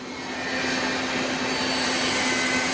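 The sub spindle of a 2011 Citizen M20 CNC Swiss lathe spins up into a steady, loud, airy whine with a faint constant hum beneath, swelling slightly at first and then holding even throughout.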